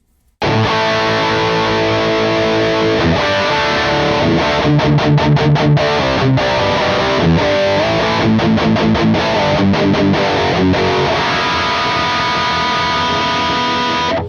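A loud, distorted electric guitar plays through an amp with a boosted, driven tone, chords and riffs ringing continuously for the whole stretch.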